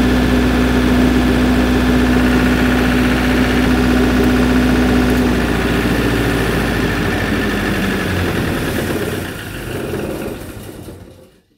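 An MEP 803A military generator engine runs loud and steady at close range with a constant droning hum, then winds down and fades out near the end.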